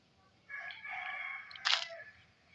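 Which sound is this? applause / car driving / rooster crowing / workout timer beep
rooster crowing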